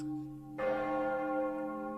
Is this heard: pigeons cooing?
no